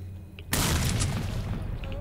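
A grenade explosion in S.T.A.L.K.E.R.: Shadow of Chernobyl bursts suddenly as a loud, close boom after a brief quiet, then trails off in a long rumbling decay with faint crackles.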